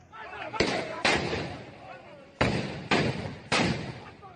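Five sharp, loud bangs of gunfire and hand grenades in a clash between groups in Sitapur, spaced irregularly over a few seconds, each trailing off into a rumbling decay.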